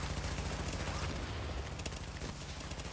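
Gunfire in the video game The Division: a dense, continuous burst of rapid shots filling the short span, fairly faint, with a player's voice briefly in the mix.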